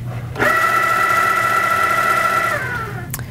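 An HQ Sweet Sixteen sewing machine quilting, a steady mechanical hum that starts abruptly, runs evenly for about two seconds and stops, with a brief click at the end.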